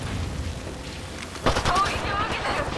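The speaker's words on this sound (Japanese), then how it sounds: "発砲中。" Apex Legends gunfire crackles in short bursts over a noisy background, with a louder volley midway.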